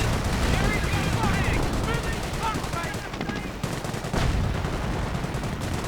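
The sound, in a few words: gunfire and grenades in a WWII strategy video game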